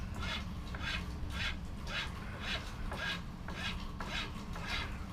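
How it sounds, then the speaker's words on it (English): A rough hand file rasps across carved aspen wood in about eight steady, evenly spaced strokes, close up and moderately loud over a low background hum. "now I got my files. Start with the rough one first."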